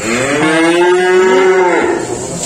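Cattle at a livestock market where calves and young feeder cattle are sold, one animal giving a loud, drawn-out moo up close, the call rising and holding for about two seconds before trailing off into market background noise.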